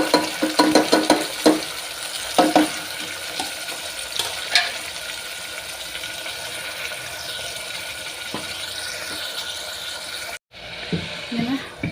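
Onion and tomato fry in hot oil for tomato rice, with a continuous sizzle broken by clattering stirs in the pan, close up and fairly loud.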